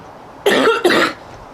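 A woman gives two quick, harsh coughs in a row, close and loud, followed by quiet.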